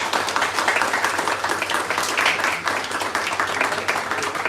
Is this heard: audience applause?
yes